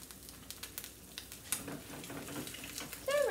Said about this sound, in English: So my eggs are frying up.